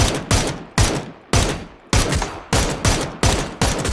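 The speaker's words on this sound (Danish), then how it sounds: "Jeg skyder." Rapid bursts of gunfire in the PUBG Battlegrounds video game, eight sharp volleys in quick succession, each cracking loudly and decaying briefly before the next, with no talk over them.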